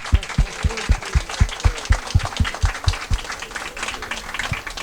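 An audience applauds Doctor Ivo at a lecture. Broad clapping runs throughout, with a steady rhythmic beat of strong, even claps rising above it for most of the stretch before the beat stops and looser clapping continues.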